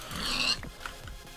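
A pig in the Minecraft Ender Games PVP mode gives a short grunt, followed by a few soft, low snorts, moderately quiet under game ambience.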